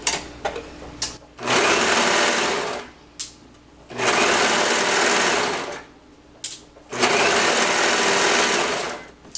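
A serger stitches a seam on a summer romper with a 1/4 inch seam allowance, running in three loud, steady whirring bursts separated by short pauses with faint handling clicks.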